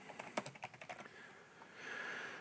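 Quiet typing on a computer keyboard: a quick run of close key clicks that stops partway, leaving a faint hum, with no voices.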